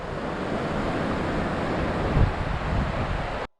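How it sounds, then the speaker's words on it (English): Gentle water lapping at a cold lakeshore near Durango, Colorado, a steady broadband wash with one slightly louder splash near the end, heard alone with some wind on the microphone. "it's just nice to watch and listen to the peaceful sound of the water"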